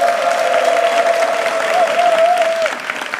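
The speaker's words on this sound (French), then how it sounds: "on s'applaudit" A studio audience on a talk-show set claps in a steady burst of applause that fades slightly at the end, with a sustained tonal hum running underneath.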